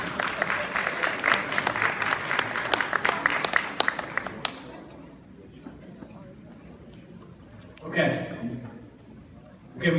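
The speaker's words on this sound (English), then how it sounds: "Let's have a round of applause." Audience applause at a town hall gathering, a dense crowd clapping at moderate volume that fades out after about four seconds, followed by a quieter stretch with a brief burst of voices near the end.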